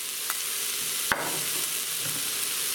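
Steady hiss of garlic sizzling in a hot pressure cooker pot, with a couple of brief clicks or taps over the constant frying noise.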